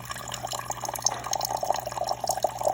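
Water streams into a cup from a refrigerator dispenser, a steady trickling fill with bubbly gurgles, close and fairly loud, with a low hum underneath and no talking.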